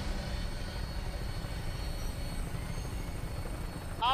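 A Vertibird aircraft lifts off in Fallout 4, making a steady, dense rotor-and-engine rumble that holds loud and even throughout, with a brief sharper sound right at the end.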